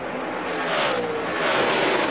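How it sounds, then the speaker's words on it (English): A NASCAR race car at the 2013 Hollywood Casino 400 drives hard through a corner, its engine a steady, loud high-pitched roar that swells and sustains across the moment with no voices. "Look at Kurt Busch drive that car in the corner"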